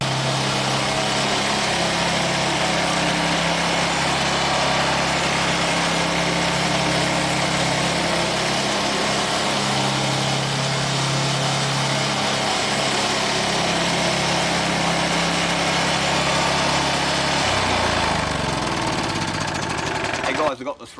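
Old, free lawn mower that cuts grass poorly, its engine idling close by in a loud, steady, rough drone, with the pitch shifting and wavering near the end.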